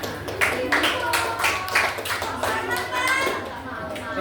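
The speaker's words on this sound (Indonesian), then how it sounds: "Oke, tepuk tangan." Children in a school Islamic religious education class clap together in a quick, steady rhythm, close by, with voices mixed in among the claps.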